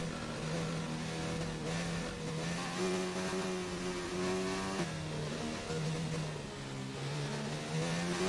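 Formula 1 car engine in the racing game F1 2019 at a Spanish circuit, a loud sustained high-pitched whine that climbs and shifts through gear changes, running steadily throughout with no talk over it.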